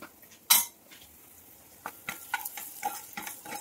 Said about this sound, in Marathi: हे टाकून व्यवस्थित मिक्स करून घ्यायचं आहे.